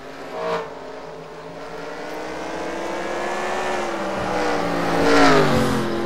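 Race cars in NASCAR Racing 2003 at a South Boston track, with engines droning and revving in a steady pack. The tone rises and falls as cars pass close by, and a louder surge comes near the end.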